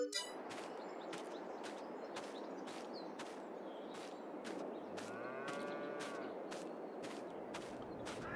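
Cattle in the farming game Farming Simulator 22, with a single low moo rising out of a steady ambient bed of farm noise and faint repeated clanks, no talk.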